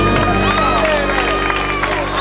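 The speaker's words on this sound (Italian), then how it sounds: "Facciamo un applauso, Don Puccio." Crowd at an outdoor concert in a town square applauding and cheering, dense clapping and shouts blended under loud sustained music with a few voices.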